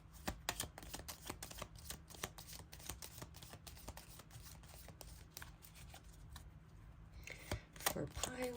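Oracle cards are shuffled close up in a long run of quick, crisp riffling flicks and soft rustles, steady and fairly quiet, ending with a few louder handling sounds.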